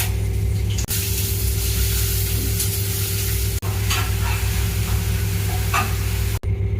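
Mustard seeds, chana dal, urad dal, dried red chillies and curry leaves fry in hot oil for a vegetable poriyal, making a loud, steady close sizzle with a constant low hum beneath and no talk.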